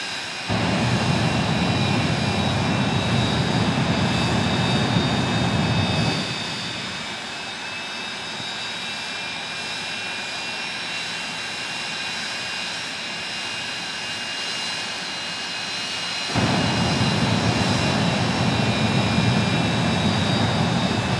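A jet truck's engine roars loudly with a high whine at a speedway, drops to a lower steady rumble midway, then surges back to full thrust near the end.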